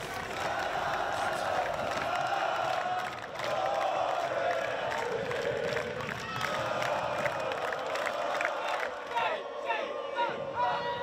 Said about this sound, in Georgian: სტუმართა გუნდს კი 100-ზე მეტი ჰოლანდიელი გულშემატკივარი იმხნევდა